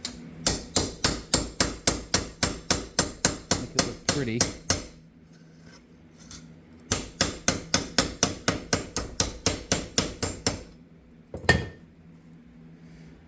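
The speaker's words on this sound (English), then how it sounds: "I'll use a slightly smaller hammer" Rapid small-hammer taps on sheet metal of a 1957 MGA Coupe battery tray, in two long bursts of steady, evenly spaced strikes, with a brief pause between and a few words spoken near the end.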